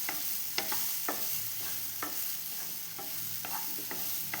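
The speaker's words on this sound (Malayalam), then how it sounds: "പഴം ഇനി ഒന്ന് നല്ലോണം നെയ്യിൻ്റെ അകത്തൊന്ന് വഴറ്റിയെടുക്കാം നമുക്ക്" Banana pieces sautéing in ghee in a pan, a soft, even sizzle broken by a handful of sharp spatula scrapes and taps at irregular intervals, close and fairly quiet, with no talking.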